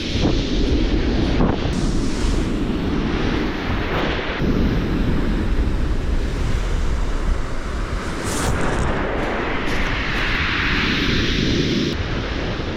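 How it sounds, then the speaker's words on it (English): Strong wind buffets the microphone on Chesil Beach, a loud, constant roaring rush with gusts swelling and fading and surf crashing underneath, no voices. "it's so windy out there"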